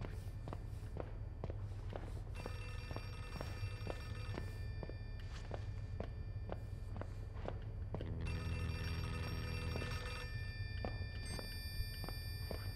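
Telephone ringing in the horror video game Outlast 2, sustained electronic ringing tones under repeated close footsteps that keep an even rhythm throughout.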